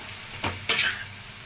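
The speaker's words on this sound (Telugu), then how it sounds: "ఇది ముక్కకు పట్టే వరకు మనం ఫ్రై చేసుకోవాలి" A few quick scrapes of a spatula stirring cauliflower and broad beans frying with turmeric in a pan, over a faint background sizzle.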